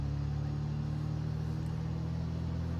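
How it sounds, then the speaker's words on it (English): Steady, close engine drone of a Just Flight Piper PA-28 single-engine light aircraft held at run-up RPM in Microsoft Flight Simulator 2020, a constant low hum with no voices. "let's do our run-up. It's going to take me a little bit to get the RPMs nice and stabilized out."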